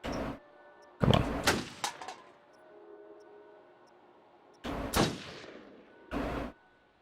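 Gunshots in the horror video game Until Dawn, several loud sharp blasts spaced irregularly, some in quick pairs, each with a short ringing tail against a quiet background.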